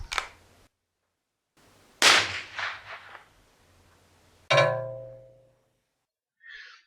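.22LR rounds fired at a steel target 50 yards away: a sharp crack, a broadband report with echoing decay, then a loud ringing metallic clang from the struck steel, with a fainter tail.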